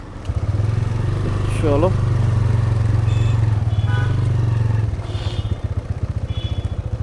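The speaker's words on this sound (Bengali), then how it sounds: "আচ্ছা, বাইক যাচ্ছে" A motorcycle engine rumbles loudly close by at the main grounds of the Sonajhuri haat in Bolpur during Poush Mela, then fades away after about five seconds, with a brief spoken word and crowd noise around it.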